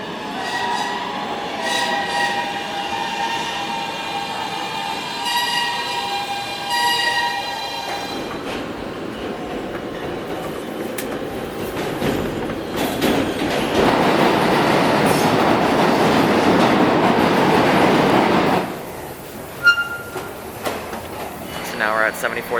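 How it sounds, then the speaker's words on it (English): A New York City subway train rumbles and roars along the track, growing louder and steadier midway, with muffled voices and station noise around it. "Time to get on the E train to the 7."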